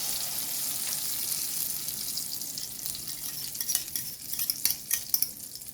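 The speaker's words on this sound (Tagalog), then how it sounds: "Pwede na natin ilagay ang ating itlog na binati." Steady sizzling of beaten eggs frying in a pan, continuous and close, with a few utensil clicks and scrapes toward the end; no voices.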